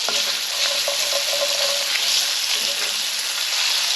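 About three rashers of chopped bacon fry in a pan for a chicken stew, giving a steady, close, dense sizzle with small pops and crackles throughout and no talking.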